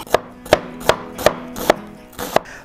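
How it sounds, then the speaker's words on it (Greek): An onion is chopped finely with a knife. Six sharp, close knife taps land against the board at a steady rhythm, each clearly separated, with nothing else heard. "Στη συνέχεια θα ψιλοκόψω ένα κρεμμύδι."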